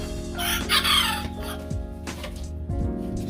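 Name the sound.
chicken crowing in a backyard coop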